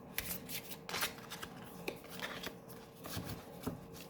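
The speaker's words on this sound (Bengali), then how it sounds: "কিন্তু আমি শাফল করেই নেব।" Tarot cards being shuffled by hand, a faint, soft riffling and flicking that comes in short irregular bursts with quiet pauses between.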